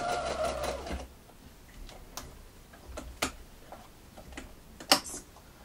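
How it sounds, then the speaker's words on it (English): A sewing machine runs a straight stitch close along the edge of lace, whirring steadily for about a second before stopping, followed by scattered light ticks and clicks of handling nearby. "I'm just using a straight stitch here, and you're going to sew quite close to the edge of your lace."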